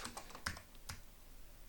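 Keys clatter on a computer keyboard in a short, quiet burst of a few quick taps early on, followed by near silence with faint background noise.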